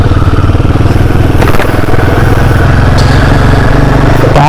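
A motorcycle engine runs close by on a hill ride near Chikkamagaluru after cooling down, a loud continuous throbbing idle with clattering mechanical ticks and no break throughout.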